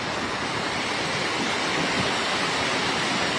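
Rushing floodwater surging past flooded houses in Batangas, a steady broadband roar with no breaks, loud and close, with no voices.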